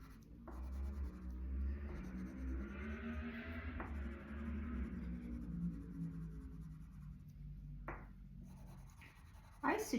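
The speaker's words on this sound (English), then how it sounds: "I suggest you using one direction for the shadowing with your pencil" A pencil shades on paper in steady strokes running one direction, giving a continuous close scratchy rasp with a few light taps and shuffles of hand and paper.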